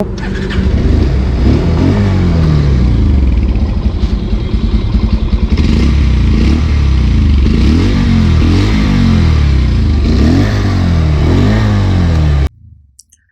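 A Bajaj Pulsar 150 Twin Disc motorcycle engine runs loud and close, with a rough idle and repeated throttle blips for about twelve seconds before it cuts off abruptly.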